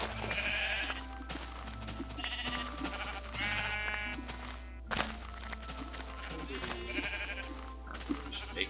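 Sheep bleat repeatedly in Minecraft 1.2.5 during wool shearing, wavering calls coming every second or two at moderate loudness over a steady low game hum, with occasional soft thunks.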